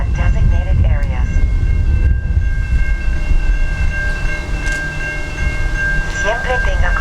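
Steady low rumble of a passing freight train with a sustained tonal hum, loud and close throughout, with brief voices at the start and end.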